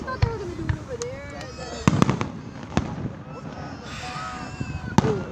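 Fourth of July fireworks burst overhead in a string of sharp, echoing bangs and crackles at irregular intervals, with whistling and people talking and exclaiming nearby.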